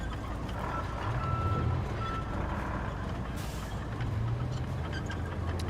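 Truck reversing beeps from the video game Roadcraft, evenly spaced electronic tones sounding over a low diesel engine rumble, with a short hiss like an air brake partway through.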